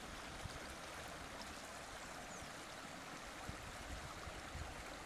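Water runs steadily through the stream at Riacho das Cruzes, a continuous soft rushing flow heard alone and fairly faint, with no voices.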